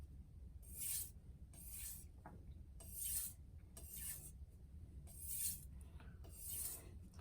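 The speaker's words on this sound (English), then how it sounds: "I'm going to again start refining the edge on the medium grit stone with edge trailing strokes" A knife edge drawn across a medium grit sharpening stone in edge-trailing strokes, six evenly spaced rasping swipes about a second apart, close and clear over a low steady background hum.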